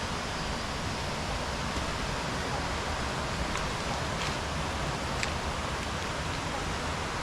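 A waterfall in Ko Chang, Thailand, rushes steadily and loudly close by, a constant broadband roar of falling water with no pauses.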